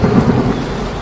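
Steady rain pouring with a deep thunder rumble rolling underneath, loud and close, with no voices.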